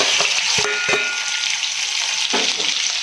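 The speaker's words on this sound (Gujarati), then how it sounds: "ત્યારબાદ આપણે આદુ મરચાં અને લસણને કટિંગ કરેલા છે એને આપણે આમાં એડ કરી દઈશું।" Chopped ginger, green chili and garlic hit hot oil in a pan for a Gujarati sev tameta shaak. A loud, dense sizzle runs throughout, with a few sharp clinks and scrapes from stirring.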